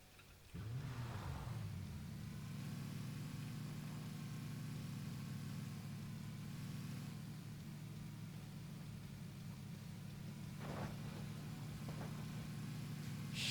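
A vehicle engine in the battle-royale game PUBG drones steadily throughout, a constant mid-loud motor rumble with a few brief louder bursts, no talk over it.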